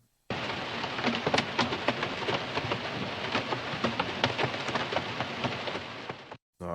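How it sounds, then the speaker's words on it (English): Rain heard from inside a car, used as a lo-fi ambience effect: a steady, full wash of pattering drops with scattered louder taps, continuous for about six seconds, then it stops. "the vinyl crackle and the rain inside of a car."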